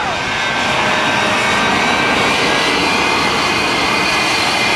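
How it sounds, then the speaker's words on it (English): Roaring, steady jet blast from the Shockwave jet truck with three jet engines and afterburners lit at an air show, loud and close, filling the whole moment without talk. "You can feel the heat when he lights up the afterburners for those three A-34 jet engines."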